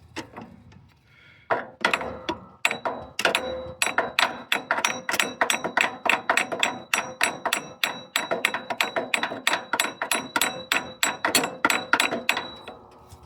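A hammer taps a pulley onto its shaft by the shank on a tractor: a steady run of dozens of sharp, close metallic taps with a faint ring, about three per second, alone.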